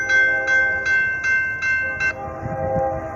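A train passes a crossing at Cherry Street, sounding a steady rhythmic series of about six loud horn blasts over a low rumble of rolling wagons, then continuing to rumble as the horn stops.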